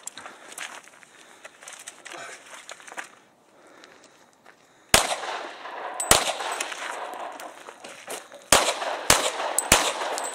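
A tactical gauntlet run with rifle shots, then a Glock 23C handgun firing several sharp, loud reports spaced out in the second half, with movement and clatter between them outdoors.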